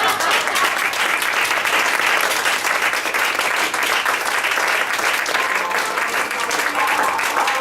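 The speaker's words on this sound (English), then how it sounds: "Everybody give a great big round of applause for the Women's Impact Network." A crowd gives a big round of applause for the Women's Impact Network, with loud, dense and steady clapping that stays even for the whole stretch.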